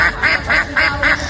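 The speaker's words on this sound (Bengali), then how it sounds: "পুকুরে হাঁসের ডাক।" Ducks on a village pond quack in a steady rhythmic series of about five loud, close calls evenly spaced over a second and a half, with no talk.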